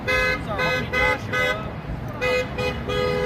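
Several car horns honk in repeated blasts, loud and close, with short gaps between them and steady traffic noise underneath.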